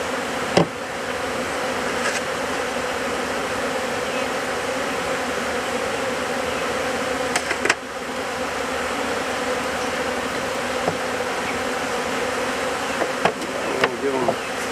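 Dense swarm of honeybees buzzing steadily around hive frames while a beekeeper works them, a continuous close, loud drone running the whole time with a few brief knocks of the frames.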